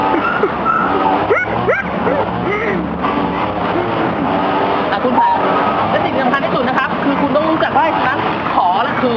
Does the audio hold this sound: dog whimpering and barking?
yes